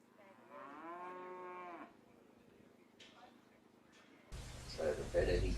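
Cattle being herded by a dog give a single long, low moo from fairly close by, followed by quiet and then a burst of rough, noisy rustling near the end.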